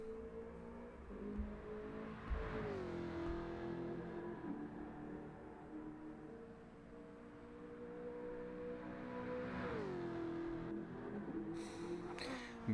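A racing game's Jaguar race car drones steadily with a sustained engine note that dips and climbs through gear changes around corners, fairly faint and continuous, with no talk over it.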